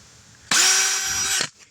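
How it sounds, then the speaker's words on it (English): A power drill spins a tiny 1 millimeter bit in one steady burst of about a second, a close, high, even whine that starts abruptly and cuts off cleanly, with no voices. "I'll be drilling them one after another like that"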